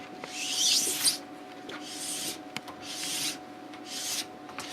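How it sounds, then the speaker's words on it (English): A sharp scraper draws repeatedly along a cross-country ski base to remove glide wax, making four long, close, hissing rasps with short gaps between strokes. "So now we're going to scrape the other ski."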